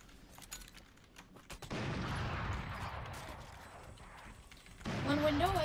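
Gunfire bursts in a Valorant match, a rapid volley of shots starting mid-clip and sustained for several seconds, fairly loud and close, with a brief sharper burst near the end under faint game sounds.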